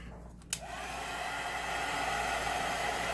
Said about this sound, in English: now let me dry it with the heating tool